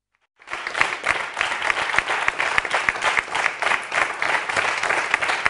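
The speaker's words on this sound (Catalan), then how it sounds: "Gràcies pels aplaudiments que són pel doctor Mañero" A studio audience at a televised interview show breaks into sustained, dense applause that starts abruptly and carries on evenly, loud and close.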